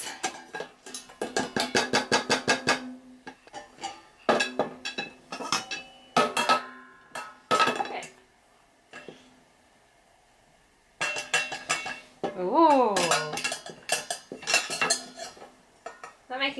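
Metal pots, pans and a ladle are banged like drums at home, giving bursts of clanging, ringing hits in uneven rhythmic runs with short pauses between them.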